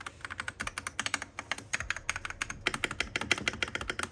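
Rapid, continuous typing on a Keychron Q6 computer keyboard, with dense, close clacking keystrokes in an uneven rhythm that runs throughout with no voices.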